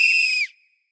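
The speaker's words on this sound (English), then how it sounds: "pretend to sound your whistle" A single clear, shrill whistle blast lasts about half a second, then cuts off and quickly fades to silence.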